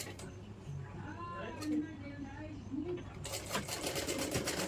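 A sewing machine stitches hook strips onto a blouse with a loud, rapid whirring run near the end, while someone talks and a cat meows nearby.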